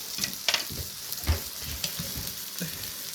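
Tilapia fish sizzles and crackles on a hot tabletop mu kratha grill, with scattered pops and spits over a steady low hiss.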